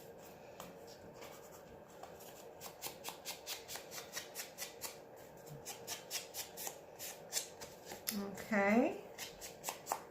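Edges of craft key tags distressed by hand with a steady run of quick rhythmic scraping strokes, close and fairly quiet, with a brief spoken word near the end.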